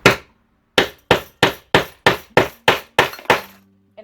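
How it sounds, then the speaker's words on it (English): A hammer strikes a leather rivet setter resting on an anvil, set on a table rather than a heavy leather bench. Nine sharp, ringing metallic hits come in a steady, evenly spaced rhythm after one opening strike, loud and close. "then you would just position the anvil right onto the top there. And then you hammer it."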